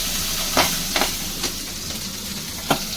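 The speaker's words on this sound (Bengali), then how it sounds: "তেলটা বেশ গরম হয়ে গেছে এবার আমি মাছগুলো ভেজে নেব মাছগুলো ফাটতে পারে কারণ পেটে ভর্তি ডিম রয়েছে" Tengra fish full of roe fry in very hot oil with a constant sizzling hiss, broken by several sharp pops and bursts at irregular intervals.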